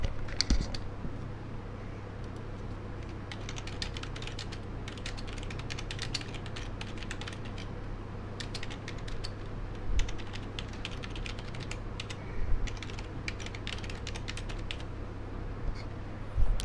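Typing on a computer keyboard: a steady, soft clatter of keystrokes in clustered runs with brief pauses, close by over a low background hum.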